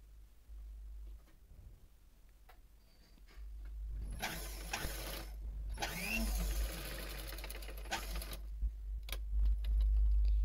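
An electric sewing machine runs in a short whirring burst while stitching the shoulder seam of a designer top near the armhole, quiet ticks and handling noises before and after.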